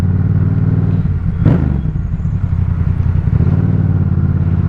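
Yamaha MT-07 motorcycle on the move, a loud continuous engine drone with low throbbing and wind rush, briefly swelling in the middle, heard from the rider's position.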